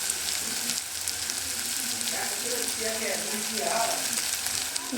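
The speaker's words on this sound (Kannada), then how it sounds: "ಫ್ರೈ ಮಾಡ್ಕೊತಾ ಇದ್ದೀನಿ." Potato palya fries in a pan with a steady, close sizzle that runs the whole time, with occasional faint stirring and scraping under it.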